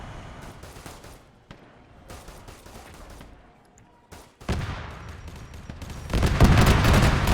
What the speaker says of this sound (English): that tank buster just fired at him point blank